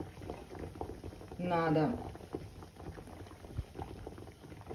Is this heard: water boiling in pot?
yes